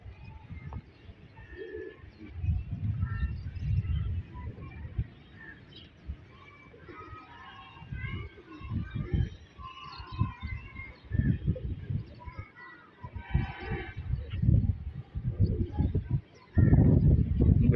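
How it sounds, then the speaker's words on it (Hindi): Pigeons cooing around a rooftop loft during a flying session: soft intermittent coos and bird calls, fairly faint, with background noise and occasional thumps throughout. "ये देखें ये आ रहा है कबूतर"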